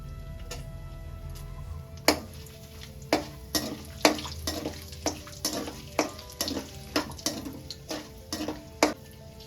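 Cinnamon and cloves fry in hot sesame oil in a pan for Tamil crab gravy, a soft steady sizzle punctuated by about a dozen sharp ticking taps of a spoon stirring against the pan.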